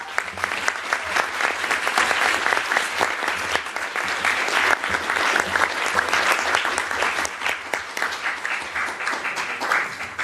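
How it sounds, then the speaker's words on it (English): Sustained audience applause for a committee chairperson at a United Nations CERD session, dense steady clapping from a large crowd filling the whole stretch without pause. "I want you to applaud her for all her work."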